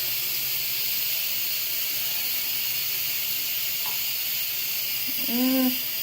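An Instant Pot pressure cooker vents steam in a tiny home kitchen, a steady, fairly loud hiss running unbroken throughout, with a brief whistling chirp near the end.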